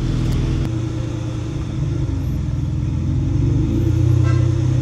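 Car exhaust rumbles loud and close in a low, steady drone, swelling slightly as the engine revs near the end, with no voices.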